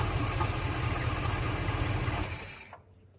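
A 1976 Ford F100 pickup engine with headers idles steadily and close by with a low rumble, then cuts off near the end and leaves near silence.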